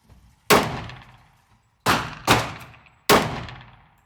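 Four sharp, loud gunshots from a Smith & Wesson M&P 10mm pistol ring out at an outdoor range, one alone, then a quick pair, then a last single shot, each with a decaying echo and no talking.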